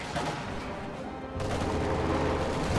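Dense WWII strategy-game battle audio: continuous machine gun and rifle fire, including light machine guns and an MG-42, crackling as a steady fusillade that grows fuller partway through, with no voices.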